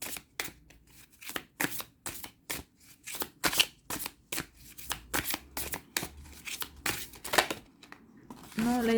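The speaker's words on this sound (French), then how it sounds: "on va aller voir un petit message conseil avec les cartes de l'amour universel" Oracle love cards being shuffled by hand, a brisk run of close, crisp papery riffles and slaps in an uneven rhythm, ending with a brief voice.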